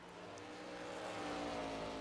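Race cars run practice laps on the Five Flags oval, a steady distant engine drone that rises slightly as a car approaches, with no speech over it.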